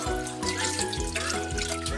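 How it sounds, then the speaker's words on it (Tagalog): A small amount of water is poured into a pot of freshly caught crabs, a steady close splashing trickle lasting about two seconds over a constant tonal hum in the background. "Lalagyan lang natin ng konting tubig."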